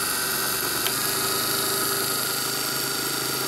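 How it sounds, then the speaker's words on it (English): Electric motor rotor spinning faster under load, a steady humming whine with constant tonal lines, continuous and close with no talk. "Powering the load is making the rotor go quicker."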